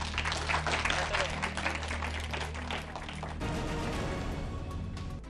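Audience applause at a school quiz contest as results after three rounds are announced, a dense steady patter of clapping filling the clip, with a low musical hum beneath and a shift in backing sound midway.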